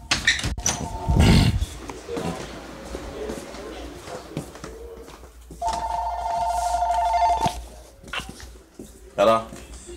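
A telephone rings in a room for a couple of seconds in the middle, a steady electronic trill that mixes with nearby talk and other loud bursts.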